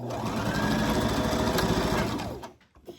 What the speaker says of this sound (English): when I get there, I'm going to give that a couple of back stitches